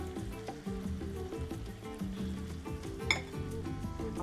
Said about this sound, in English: I'm gonna add in some tint tomatoes